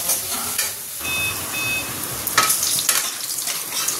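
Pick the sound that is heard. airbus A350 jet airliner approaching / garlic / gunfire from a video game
garlic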